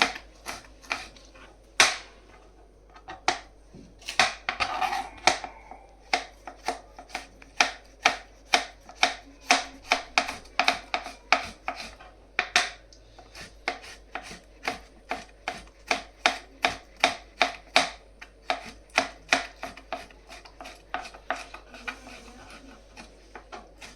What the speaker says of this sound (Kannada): ಟೊಮೊಟೊನ ತುಂಬ ಸಣ್ಣಕ್ಕೆ ಹೆಚ್ಕೋಬೇಕು, ಬಾಯಿಗೆ ಸಿಗಬೇಕು ಆ ಥರ